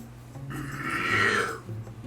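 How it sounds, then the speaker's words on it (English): A single loud, drawn-out burp rises and fades over about a second, close to the mic, with a low background hum. "He just burped really loudly"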